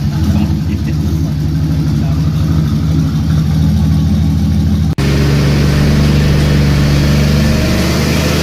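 A turbocharged Mazda RX-8 rotary engine with an unequal-length turbo manifold idles loudly and steadily up close, a deep uneven drone that continues after a brief cut partway through.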